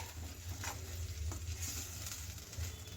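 Ground tomato masala fries and sizzles in a pan for a pepper and garlic saaru, with a steady hiss and soft scraping from continuous stirring, close and even throughout, no voices.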